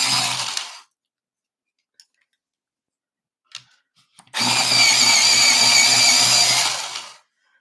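An electric pencil sharpener grinds down a Crayola watercolor pencil, first in a short burst and then in a longer whirring run of about three seconds, loud and close, with small clicks and handling noises in the quiet gap between.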